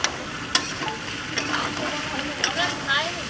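Pointed gourd curry with fish sizzles steadily in a pan while it is stir-fried, with sharp clicks of the spatula against the metal standing out over the constant frying hiss.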